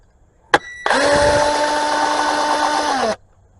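A power tool loosens bolts on the oil filter housing of a 2013 Dodge Journey, starting with a brief click, then a loud, close, steady high-pitched whir for about two seconds that cuts off abruptly.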